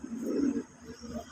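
A Rajshahi Giribaj pigeon, a high-flying tumbler breed, gives a low throaty coo that swells over the first half-second and then repeats more softly, close by with no talking.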